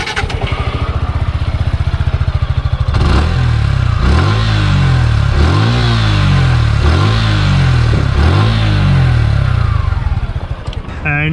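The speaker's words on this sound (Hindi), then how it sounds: "सो गाइस अभी हम सुनते हैं कि गाड़ी का एग्जॉस्ट नोट कैसा है" A Suzuki Gixxer SF 155 BS6 motorcycle from 2020 idles close to the microphone, then gets several sharp throttle blips, each rising and falling back to a steady idle before the engine shuts off.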